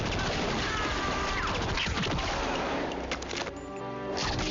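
Gunfire and crashing action sounds from the 1998 movie Blade, a loud, busy clatter of shots and impacts that tapers into quieter rumbling near the end.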